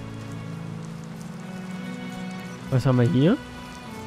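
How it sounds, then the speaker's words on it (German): Steady rainfall in the fantasy role-playing game Enderal, an even, continuous patter holding at a constant level, with someone speaking briefly near the end. "wie lange das hier heute einfach regnet"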